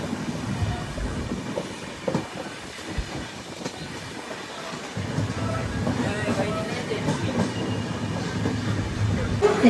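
A train halted at Sindhudurg station gives a steady low rumble of rolling stock, with a brief faint clatter and occasional voices around the platform.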